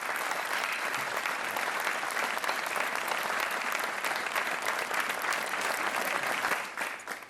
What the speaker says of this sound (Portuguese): Um aplauso para o Miguel Pinto